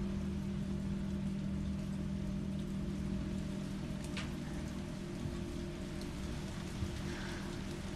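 Steady rain patters continuously over a low, constant hum in the game Resident Evil 3, with no voices.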